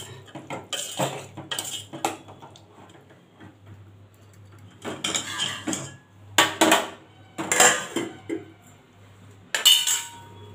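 Metal spoon scraping and clanking against a pan while stirring and mixing black-eyed pea curry, in several separate bursts of rattling strokes with quiet pauses between.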